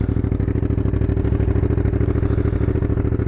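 A Suzuki SV650 V-twin motorcycle with a Leo Vince exhaust fitted with a db-killer idles with a steady, deep thumping exhaust pulse, loud and close, without sharp rasp.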